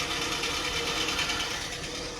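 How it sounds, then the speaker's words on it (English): A Dodge M880 W-200 truck engine idles steadily up close, with a continuous mechanical whir and faint rhythmic chatter that fits a worn water pump bearing. "I think that's the water pump bearing"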